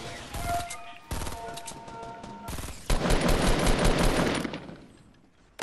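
Automatic weapon fire in the video game Fortnite: dense close bursts of rapid shots, broken by short pauses, then one long sustained volley that fades out before a final sharp shot, with no speech.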